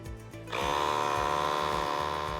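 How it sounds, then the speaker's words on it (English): A portable tire compressor plugged into a car's cigarette lighter starts up after a short rattle and then runs with a loud, steady buzzing drone while inflating a rental car's flat tire. "Turn on the compressor and inflate to the required pressure."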